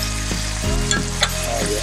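A New York strip steak fries in a pan with a loud, steady sizzle as it is basted, with a few clinks and scrapes of the spoon over the hiss.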